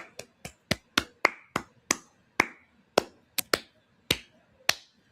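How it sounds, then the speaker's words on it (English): A person claps their hands in quick, uneven bursts, about fourteen sharp close claps spread across a few seconds, each ringing briefly in a quiet room with no talking. "that was me clapping my hands because I'm happy"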